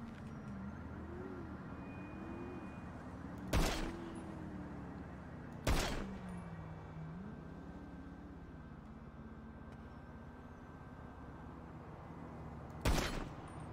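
Three loud, sharp pistol shots ring out at irregular intervals during a video game police shootout, over a droning, wavering engine-like hum in the background.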